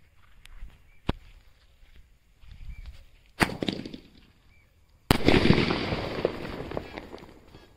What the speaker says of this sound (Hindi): तो चलो लगाते हैं एक बार मीडियम साइज के स्काई शॉट के अंदर आग